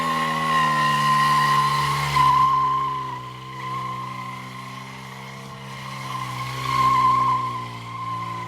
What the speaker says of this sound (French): Donc la moto roule, démarre et fait des dérapages.